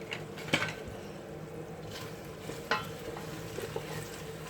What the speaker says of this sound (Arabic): ملي تتدبل البصله في الزيت